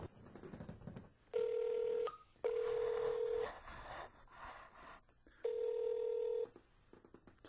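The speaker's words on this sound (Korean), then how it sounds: "전화를 걸어보도록 하겠습니다." A telephone call being dialed: three long, loud, even ringing tones separated by short quiet gaps, with faint background sound between them.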